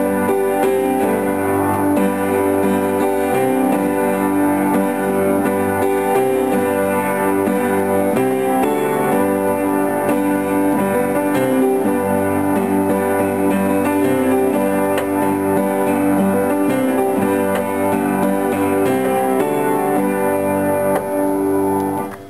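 A piano plays the verse as a full, continuous passage of chords over a moving bass line, even and steady for over twenty seconds, loud and close with no talking.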